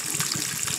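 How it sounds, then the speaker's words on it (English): Shaq soda poured down a sink drain, a steady close splashing, gurgling stream of liquid that runs through the brief moment without pause or talk. "as I pour this shit down the drain"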